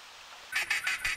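Four short rasping duck quacks from a duck caller in theHunter Classic hunting game, evenly spaced and fairly loud after a half-second of quiet background ambience.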